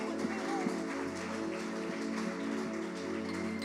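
A church congregation applauds in a large hall, a steady, dense wash of many hands clapping that sounds like rain, heard from a distance with a low hum and tonal background underneath.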